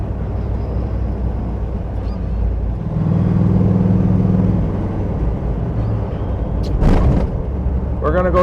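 A 1956 Chevy Bel Air two-door hardtop with a 454 big block, geared low, cruises down a freeway, its steady engine drone and road roar heard from inside, swelling briefly before a short clatter.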